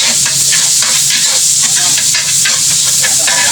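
Onions sizzle in hot oil with garlic for kare-kare, a steady close bright frying hiss with brief stirring scrapes and clatter over it.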